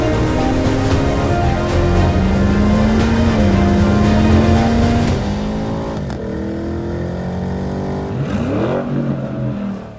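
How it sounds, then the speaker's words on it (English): Porsche Cayenne GTS with its 4-litre twin-turbo V8 and Porsche Sports exhaust, loud and close, climbing in revs through several gear pulls, then easing off before another short throttle blip near the end; no talking. "Porsche Sports exhaust system is standard on the new GTS, and obviously when it's hooked up to a 4-litre V8 with a pair of turbochargers"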